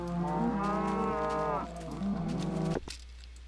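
Cows in the Minecraft video game give long, drawn-out moos, two loud bellowing calls one after another, ending abruptly in quiet.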